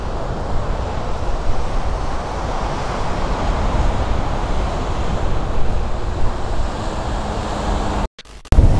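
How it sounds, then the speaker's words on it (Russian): Strong wind blowing outdoors in Simeiz, a loud continuous rushing roar buffeting the microphone with gusty surges, cutting off abruptly near the end. "что-то ветер наоборот усиливается"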